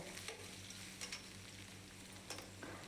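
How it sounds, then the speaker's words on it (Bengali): Carrot, radish, eggplant, beans and pumpkin fry in a pan while being stirred, making a quiet steady sizzle broken by a few sharp scraping strokes of a utensil, with no talking. "তো সবজিগুলোকে দিয়ে ভালো করে বেশ একটু নেড়ে চেড়ে ভেজে নেব"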